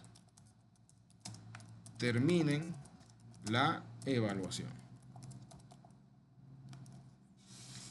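Rapid clicking keystrokes on a computer keyboard run steadily through the clip, close by and fairly quiet, partly under someone speaking Spanish.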